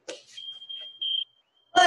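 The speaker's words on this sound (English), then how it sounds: "I'm gonna set the timer this time so we actually" A workout timer at an adult Brazilian jiu-jitsu fundamentals class gives a thin, steady high electronic beep that holds and then briefly gets louder, framed by short bursts of nearby speech.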